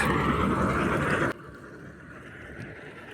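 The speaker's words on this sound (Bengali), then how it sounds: "আমরা দেখতে পাচ্ছি আরেকটি ট্রলার যাচ্ছে" A motor trawler's engine drones loudly on a river, then cuts off abruptly partway through, leaving quieter outdoor ambience with faint distant rumbling.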